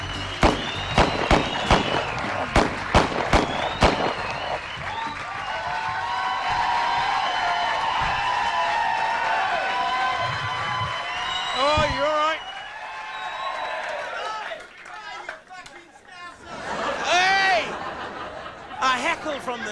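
A live comedy-show crowd greets Craig Charles with bursts of clapping and cheering that swell and then fade out. A voice announces over the noise, and laughter follows later.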